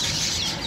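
Chickens in a pet shop that also sells other birds cluck in a brief, dense burst of fowl calls over steady room noise.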